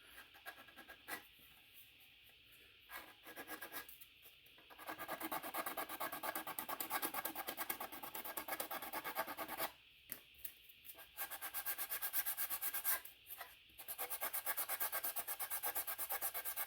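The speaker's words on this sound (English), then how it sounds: "I'll sand the bottom side a little bit." Sandpaper works the underside of a sculpted piece for a quarter-scale custom Thor figure: close, steady rasping strokes in long runs broken by short pauses.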